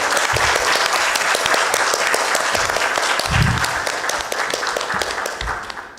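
Sustained clapping from a seated crowd at a political lecture, thick and continuous at close range, swelling slightly mid-way before thinning toward the end, with no voices on top.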